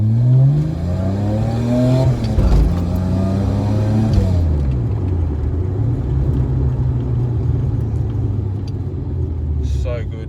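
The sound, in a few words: loud car cabin noise from tires and differential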